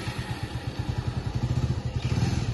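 A Bajaj Avenger 220cc motorcycle engine running under a learner rider, a close, steady thumping putter with a rapid, regular beat that swells slightly toward the end.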